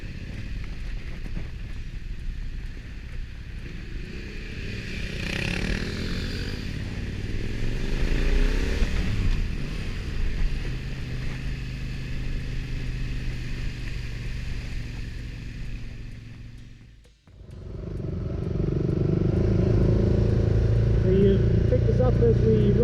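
A Yamaha MT-07 motorcycle rides along a road. Its engine drones steadily under heavy wind noise, with rising revs and a brief dip as it shifts gear, and a rider talks over it throughout.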